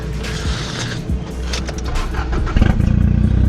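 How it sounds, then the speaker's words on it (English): A Nissan Pulsar GTI-R rally car with an open downpipe and no exhaust rumbles close by, its engine note climbing into a louder, rougher rev near the end. "So I'll rev her up a little bit for you."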